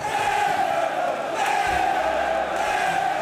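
Liverpool FC supporters chanting together on the Kop terrace at a football ground: a loud, dense wall of massed voices holding a sustained sung tone throughout, with no break.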